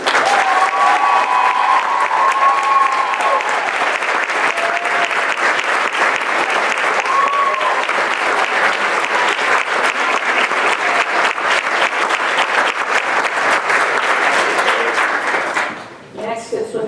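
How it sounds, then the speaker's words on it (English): Sustained audience applause at a school board meeting honoring a swim program, dense steady clapping from a crowd that continues for most of the stretch and then tapers off near the end. "I think she needs a big round of applause"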